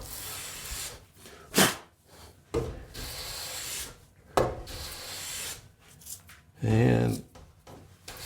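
Hand planing of a wooden board with a jointer plane: several separate rasping strokes, each a short rough swish, close and fairly loud, with quieter handling and scraping sounds between them.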